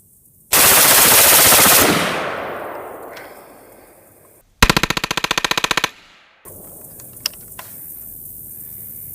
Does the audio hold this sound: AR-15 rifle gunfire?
yes